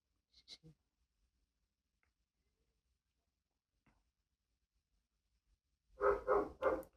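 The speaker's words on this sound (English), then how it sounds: "Sorry about the dog barking." Three quick, loud dog barks close together near the end, after a mostly quiet stretch with a couple of faint thumps.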